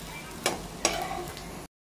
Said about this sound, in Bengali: সুন্দর ভাজা হচ্ছে, হালকা হালকা বেশ লালচে লালচে ভাব এসে গেছে